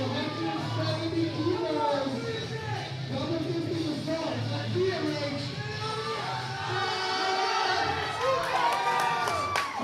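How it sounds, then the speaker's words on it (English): A crowd at a powerlifting meet cheers and shouts after a lift, a loud sustained roar of many voices with individual yells rising above it, close and busy from start to finish. "The crowd loves it."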